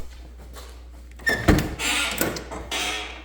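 A squeaky car door on a lowrider Monte Carlo creaks and thumps as it swings, a short loud squeal and knock over a quiet garage background with no talk.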